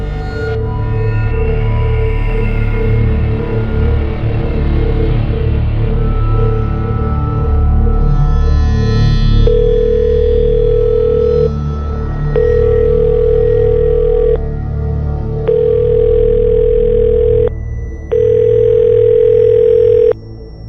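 Telephone left ringing unanswered, first a low hum, then a series of evenly spaced electronic ring bursts with short gaps, loud and close, no speech.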